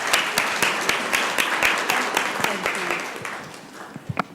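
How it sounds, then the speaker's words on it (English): Audience at a city council meeting giving a round of applause, scattered clapping from a modest crowd fading over a few seconds into a few last isolated claps. "Let's give them another round of applause."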